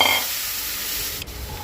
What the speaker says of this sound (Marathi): 2 कांदे बारीक चिरून ते घालपाक जाय आनी 2 मिनटां परतून घेवंक जाय